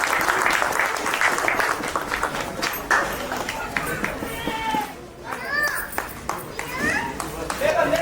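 Colony crowd at a neighbourhood immersion-festival gathering clapping for an honoured elder, a burst of applause mixed with children's shouts and voices nearby.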